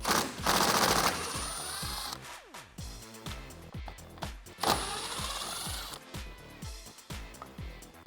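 A 10mm socket on an extension spins bolts out of a RAM 1500 front bumper support bracket, with bursts of rapid rattling impact or ratchet chatter in two loud runs, then looser clicks and knocks between them.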